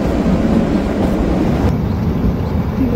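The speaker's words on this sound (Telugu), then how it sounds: "నైట్ కూడా చూడండి అసలు ట్రైన్ ఎలా వెళ్తుందో" Inside the Kalka–Shimla toy train running through Himachal before dawn, the carriage gives a loud, steady rumble with rail noise and a dull rolling clatter. No one talks over it.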